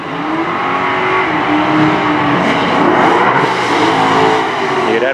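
A twin-turbo Mustang drag races an old AMX Javelin, loud engines roaring and revving continuously up close with a high turbo whine rising over the crowd, and onlookers talking throughout.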